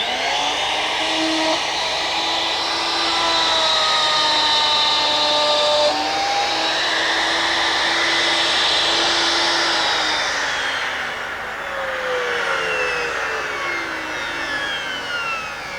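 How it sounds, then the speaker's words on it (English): A power saw making a second cut on a Triton Work Centre, a loud continuous whining roar with shifting pitch as the blade moves through the wood, dipping briefly near the end before resuming. "Clamp it back up, line up this edge with the line, and then do your second cut."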